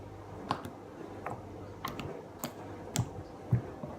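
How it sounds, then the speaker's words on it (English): Homemade slime squished and stretched by hand, giving scattered sharp clicks and small pops at an irregular pace, close and fairly quiet, with no voices. "Clicky, as slime should be."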